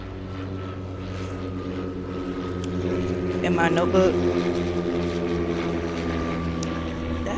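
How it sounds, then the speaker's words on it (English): A propeller airplane drones overhead, a steady engine hum that grows a little louder midway, under someone speaking. "That plane is loud."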